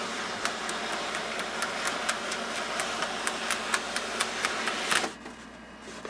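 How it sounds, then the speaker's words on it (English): Dot matrix printer pulling tractor-feed paper through by its sprocket holes, a rapid regular train of sharp mechanical clicks over a steady motor whir, close and fairly loud, ending abruptly near the end. "The paper is basically being pulled through the printer"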